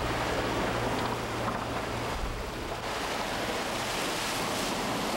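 Waves wash steadily against a rocky shore roughly 8 km outside Busan's inner harbour, a continuous broadband rush of surf mixed with wind, with a low engine-like hum in the first half and no voices.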